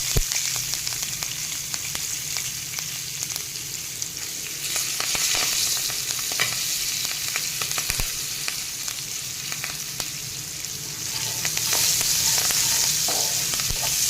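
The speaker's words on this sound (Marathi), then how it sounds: "कांदा आता आपण दोन एक मिनटं छान परतून घेऊया" Chopped onion and curry leaves sizzle and fry steadily in a hot pan, a continuous loud crackle with occasional stirring scrapes throughout and no talking.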